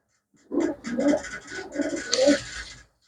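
A pigeon coos close by in a few soft, throaty rolling phrases, separated by brief pauses, against a quiet background.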